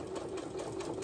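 Electric sewing machine running steadily, stitching through several layers of fabric, a continuous close mechanical whirr with a rapid needle rhythm and no talking.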